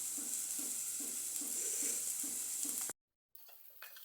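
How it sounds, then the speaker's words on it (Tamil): Onions sautéing in a pan, a steady broad sizzle with soft rhythmic stirring scrapes about every half second, then a brief cut to silence before quieter frying resumes. "வெங்காயம் நல்லா வதங்கிருச்சு."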